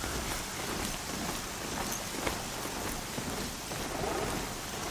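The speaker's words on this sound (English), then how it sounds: "And it's raining." Steady rain pours in Horizon Zero Dawn The Frozen Wilds as a dense, continuous hiss on surfaces with scattered droplet ticks, filling the whole stretch with no talking.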